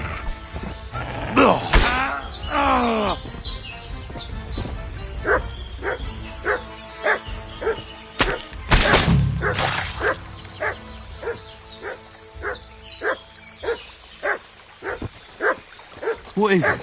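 A dog named Mutt barks in a repeated run of sharp yips and bow-wows, close and fairly loud, with whimpers mixed in and a person speaking over parts of it.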